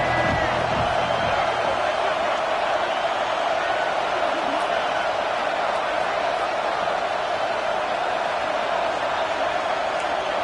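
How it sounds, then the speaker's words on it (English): A stadium crowd in a college football video game roars in a steady, dense wash of noise that holds loud throughout, with a commentator talking over it. "This crowd rising up, sensing that its defense needs some help"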